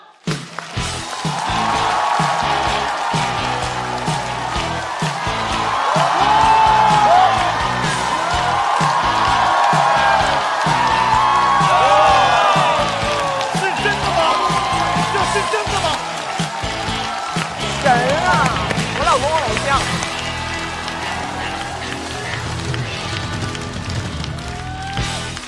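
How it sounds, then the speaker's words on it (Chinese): A live stand-up comedy show audience applauds and cheers to welcome a comedian onto the stage, sustained dense clapping with whoops and crowd noise throughout, the comedian's voice rising over it later. "让我们掌声欢迎下一位演员"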